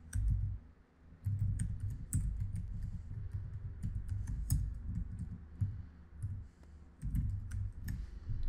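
Computer keyboard keys tapped in quick irregular bursts while a password is entered, close and fairly quiet, over a steady low background hum.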